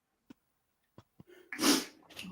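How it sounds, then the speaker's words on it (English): A person sneezes indoors: a few short, soft sniffs and breaths lead into one loud, close sneeze with a breathy tail, followed by a softer exhale. "Whew, he's making me sneeze."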